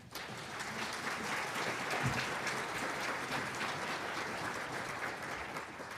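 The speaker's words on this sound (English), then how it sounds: "Please, a big round of applause for our panelists." An audience at a military family forum applauds panelists steadily, a dense wash of clapping from many hands that holds at an even level throughout, with no voices on top.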